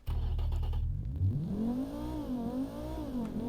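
A car engine in the Automation/BeamNG driving game revs up from a low rumble, its pitch climbing and wavering steadily for several seconds, loud and close with a muted tone and no talk over it.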